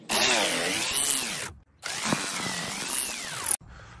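Cordless power tool spinning out dashboard bolts on a Jeep Wrangler, two close, loud whirring runs with rising and falling pitch separated by a brief pause, ending abruptly.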